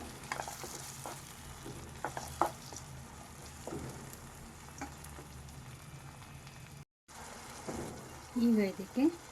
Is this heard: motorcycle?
no